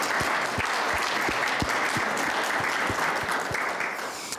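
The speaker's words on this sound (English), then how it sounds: "How about another round of applause for Fritz, our hero this month?" A room full of people at a Safe Streets monthly meeting claps for a hero of the month, a steady, dense round of applause that holds strong for several seconds before thinning out at the end.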